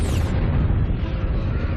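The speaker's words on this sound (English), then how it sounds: "A supernova explosion is an incredibly powerful explosion." Deep, sustained rumbling boom of a supernova explosion sound effect in a space documentary, a dense low roar filling the short stretch at steady loudness without any voices.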